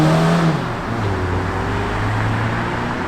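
A Peugeot 405 Mi16 engine with a sports exhaust idles and revs with a steady low drone, the pitch dipping then holding; close and loud, no voices.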